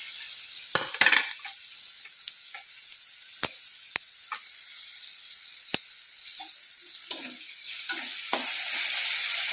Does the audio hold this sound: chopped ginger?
yes